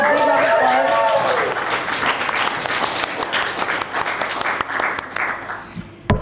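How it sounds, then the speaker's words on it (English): An audience at a web development bootcamp demo day breaks into applause while cheers and whoops ring out at the start, then steady clapping with crisp individual claps continues and tapers near the end. "let's give a big round of applause."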